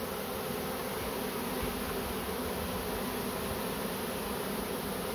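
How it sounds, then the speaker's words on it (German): Honey bee swarm gathering at a hive entrance outdoors, a dense continuous buzzing drone of many bees, steady and close, with no voices. "da kann man jetzt auch schon schön sehen, dass die Bienen sich jetzt hier ran orientieren am Flugloch"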